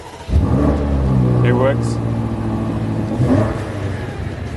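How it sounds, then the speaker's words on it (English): A BMW M8 Gran Coupe in Sport Plus with the exhaust open starts up and revs loudly, then settles to a strong burbling idle, while a voice speaks briefly over it. "when you go into Sport Plus, one important thing, the exhaust opens."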